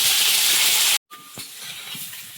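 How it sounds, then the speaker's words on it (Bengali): Potatoes frying in very hot oil give a loud, dense hiss that cuts out abruptly midway, then returns as a quieter, steadier sizzle with one sharp knock. "এখন আলুগুলো ভেজে নেবে"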